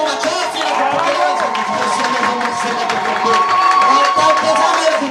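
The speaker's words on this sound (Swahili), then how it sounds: "reçois les acclamations de ton peuple" A church congregation claps and cheers together in a dense, continuous wash of applause and acclamation, loud and close, with voices blended in throughout.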